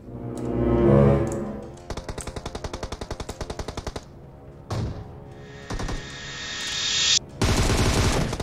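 Gunfire in the mobile battle-royale game PUBG Mobile: rapid automatic bursts of evenly spaced shots, a long loud string followed by shorter volleys and single heavy reports, with no talk over it.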